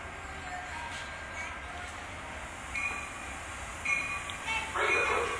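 An Amtrak train rolls into Guilford station, Connecticut, cab car leading, as a steady low rumble with hiss and faint squeals building slightly toward the end, heard from the platform at moderate distance.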